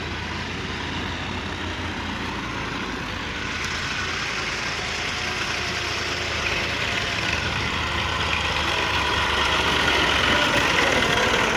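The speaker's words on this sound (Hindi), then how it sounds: "जा रहा है ट्रैक्टर लेकर" Tractor leaving through a village on a cold morning, its engine a steady, loud, low-to-mid drone that holds for several seconds and swells slightly near the end, with no voices.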